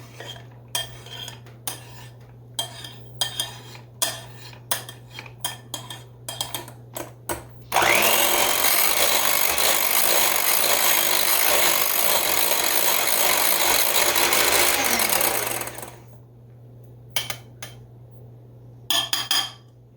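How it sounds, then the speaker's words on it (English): Scraping the sides of a bowl while mixing cream cheese dip, with scattered clinks and scrapes, then a long steady loud whir of a mixing appliance for several seconds before the clinks return. "I'm just going to scrape the sides here."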